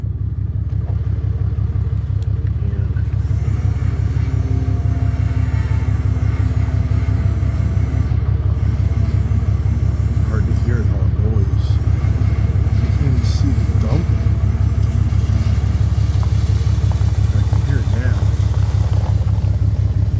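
A dump truck engine rumbles steadily and loudly from inside the cab, a constant low drone throughout, with someone talking over it at times.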